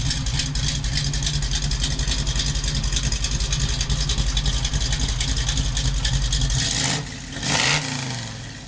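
A Chevrolet Nova muscle car idles with a loud, choppy, pulsing rumble before a sharp rev flares up and drops away near the end.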